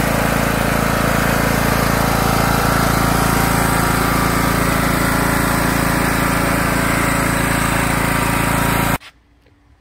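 The engine of a zero-turn lawn mower runs loud and steady while the mower is driven, a dense continuous drone that stops abruptly near the end.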